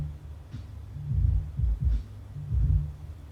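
A subwoofer plays deep bass thumps alone with the main speakers turned down, a low throbbing pulse of soft repeated hits at moderate level.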